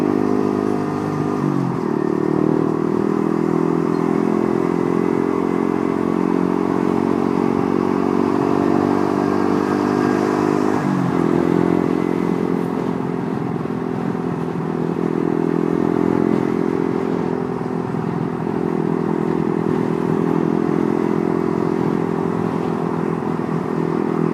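A Yamaha M-Slaz motorcycle ridden on the road, its engine droning loudly and steadily throughout with a couple of brief shifts in pitch, wind and road rush mixed in.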